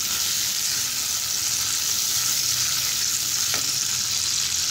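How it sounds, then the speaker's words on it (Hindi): Orange chicken sauce with orange juice and sausages stirred in a pan over low flame, an even, dense bubbling sizzle with light stirring, steady and close, no voices. "और इसे अच्छे से मिक्स कर लेंगे।"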